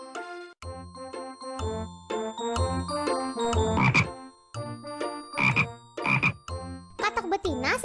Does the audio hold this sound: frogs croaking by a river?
yes